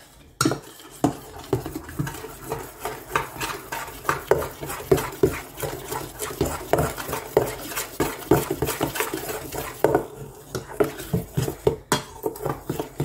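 A whisk or spoon scraping and clinking against a bowl while mixing oil and milk into cake batter for a chocolate Yule log, a rapid, irregular, close rattle throughout.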